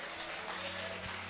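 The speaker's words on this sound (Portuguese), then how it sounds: "E aplauda ao Senhor" A church congregation applauds in praise during a Portuguese-language worship service, a steady, soft wash of clapping filling the short stretch without pause, with a low hum underneath.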